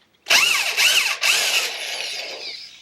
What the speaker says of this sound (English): I reversed the drill and brought that back out.